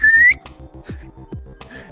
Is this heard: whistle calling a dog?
yes